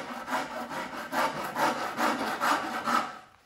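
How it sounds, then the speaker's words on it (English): A rasp's fine teeth pass back and forth over a wooden toy sailboat hull in a workshop, giving about six rhythmic scraping strokes, close and clear, each swelling and fading before the next. "Now I'll turn it over and use the small teeth. And just give a few passes to smooth it out."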